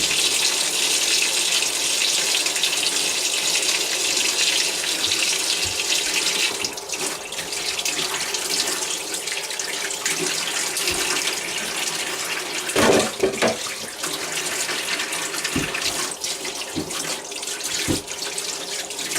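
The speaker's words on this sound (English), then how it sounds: "Wash the apples." Tap water runs steadily into a kitchen sink as apples are rinsed for a raw apple crumble, a constant close hiss with a few brief clunks and splashes toward the end.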